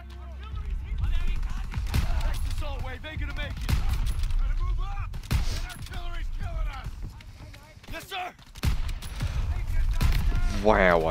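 Gunfire in a Call of Duty WW2 D-Day campaign battle: scattered shots and bursts crack out repeatedly amid shouting soldiers, explosions and chaotic combat noise, with people talking throughout.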